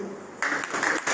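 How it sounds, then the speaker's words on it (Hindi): Audience applause for a woman at a leadership program event, a short burst of clapping that rises after a quieter start and continues steadily for about a second. "एक बार फिर से ताली बजाओ इनके लिए"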